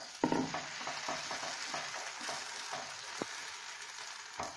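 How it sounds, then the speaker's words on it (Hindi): Raw-rice batter poured and spread across a pan over low flame gives a soft, continuous sizzle broken by scraping strokes and light clicks of the spoon against the pan. "अपने बैटर को हम इस तरह से डालेंगे इसमें"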